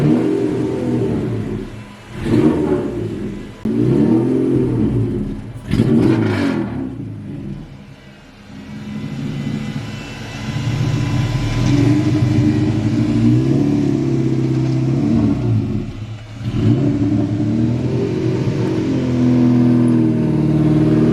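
The LS-swapped V8 in a Chevrolet Colorado revs repeatedly from inside the cab, several sharp throttle blips rising and falling early on, then a sustained loud drone as the engine pulls under load, with no voices.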